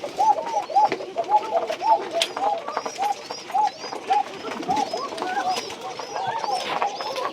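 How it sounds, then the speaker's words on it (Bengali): Free-ranging pet pigeons at a farm cooing in repeated soft, rhythmic calls at close to moderate distance, over light background bustle and faint voices. "এগুলো হচ্ছে ছাড়া কবুতর"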